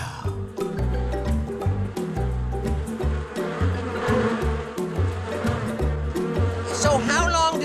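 Children's song voices buzzing like a bee over steady bouncy dance music, a sustained droning buzz riding on the beat throughout, loud and continuous, voices imitating the bee sound.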